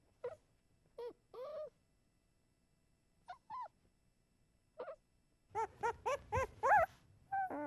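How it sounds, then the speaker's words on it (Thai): Newborn Labrador puppies whimper and squeal close by, first in scattered short cries and then in a rapid, louder burst of overlapping yelps near the end, with no talking. "ลูกสุนัข5 ตัวได้ถือกำเนิดขึ้นมามาลืมตาดูโลก"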